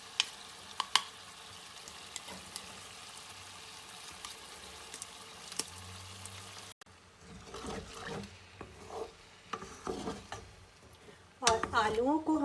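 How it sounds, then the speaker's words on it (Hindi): Potatoes fry with yogurt in a pan for Kashmiri dum aloo, giving a quiet steady sizzle broken by scattered clinks and scrapes of a utensil. Speech can be heard partway through. "और आलूओं को हम लोग मज़ीद 10-15 मिनट के लिए दही डालकर अच्छे से भूनेंगे।"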